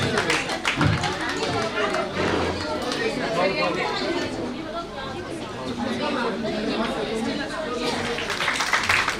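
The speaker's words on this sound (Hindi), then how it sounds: "आपकी जोरदार तालियों के साथ अध्यक्ष उद्बोधन की आमंत्रित कर रही हूँ डॉक्टर लक्ष्मी शंकर राठी।" Sustained clapping and applause from an audience, steady and fairly loud throughout, with crowd chatter mixed in.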